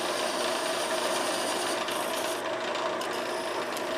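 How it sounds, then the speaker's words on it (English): A parting tool cuts into a spinning wooden wine bottle Christmas ornament on a wood lathe, with a steady, close rasping scrape that holds for the whole stretch and never pauses. "I'm going to part it off now."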